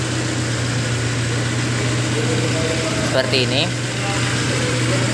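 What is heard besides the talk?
Honda Grand Civic 1990 engine idling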